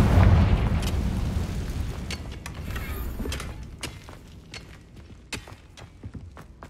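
A Confringo fire spell explodes in Hogwarts Legacy with a loud, deep boom at the start that rumbles and fades, followed by scattered sharp crackles and light impacts that thin out over several seconds.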